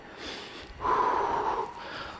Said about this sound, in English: Controlling your breathing.